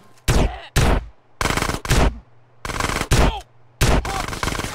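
Shotgun blasts in GTA: San Andreas, six loud, sharp booms fired one after another at roughly even intervals, each with a brief decay before the next shot.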